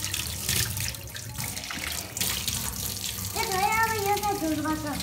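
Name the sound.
water running from a tap while washing hands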